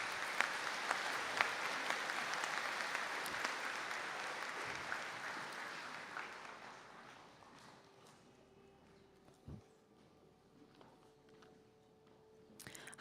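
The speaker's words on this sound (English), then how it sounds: "Round of applause for the graduates." Graduates receive applause from the audience at a conferring ceremony in Donegal. Dense clapping rolls on for about six seconds, then thins out and fades to a quiet room with a few scattered claps and small knocks.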